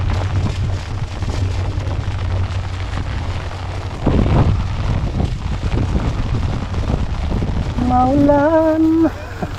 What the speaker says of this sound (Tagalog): My goodness, nabutan tayo ng ulan.